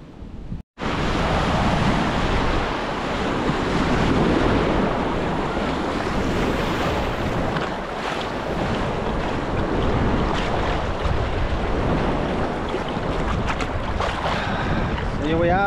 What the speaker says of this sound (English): It's a lot of waves